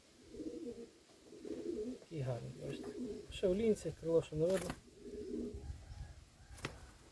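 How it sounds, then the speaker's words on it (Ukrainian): A pigeon in a newly built dovecote gives several throaty, rolling coos in a row, close by, while someone talks over and between the calls. "Це буде голубок."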